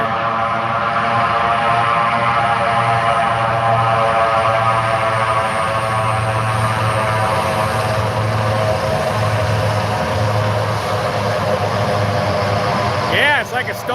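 A large firefighting air tanker airplane lands at a small airport, its engines a loud, continuous drone with steady tonal hum and layered harmonics that hold nearly unchanged from start to finish.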